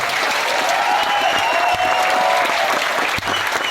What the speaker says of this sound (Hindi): हम सिर्फ अपनी तरफ से उनको तालियां दे सकते हैं, जोरदार तालियां